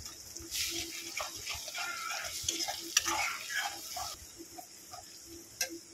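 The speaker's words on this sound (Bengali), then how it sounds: "একটু ভালো করে গন্ধটা যতক্ষণ না যাচ্ছে একটু আমি ভেজে নেব" Spices with a little chili powder frying and being stirred in a pan for Bengali rui posto, a steady moderate sizzle with scraping spatula strokes, no voices.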